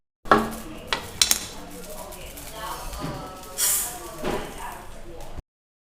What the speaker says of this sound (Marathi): हे आपण एका प्लेटमध्ये काढून घेऊया.